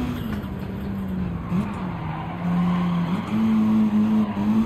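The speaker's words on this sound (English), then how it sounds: "Ooh, I can hear those tires." A rally car in Gran Turismo 7 slides with its tires squealing in long, wavering tones over a steady engine drone and road rumble, growing louder toward the end, with no voices.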